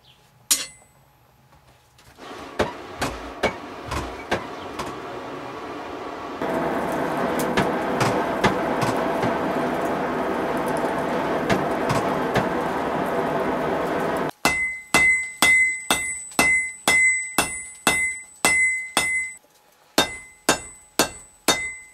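A blacksmith strikes short metal stock held in pliers, sharp ringing hammer blows coming in bursts, first spaced clanks, then a steady metallic din, then a fast regular run of bright anvil-ringing strikes, close and loud.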